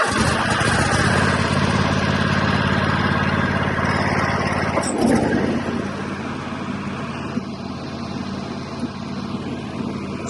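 A TimeCutter riding lawn mower fitted with new blades runs steadily with a loud, continuous engine drone, easing to a slightly quieter, smoother tone about halfway through.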